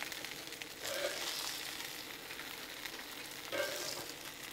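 Smash burgers with peppers and onions sizzle on a Blackstone griddle, a faint but steady hiss that swells twice as more food is added, with no voices.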